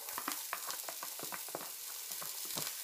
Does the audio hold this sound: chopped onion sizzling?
yes